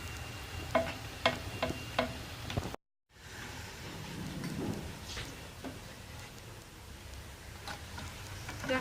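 Eid rghaif, honey-soaked flaky dough pastries, frying in hot oil, giving a steady crackling sizzle with scattered light pops and ticks and a brief dropout partway through.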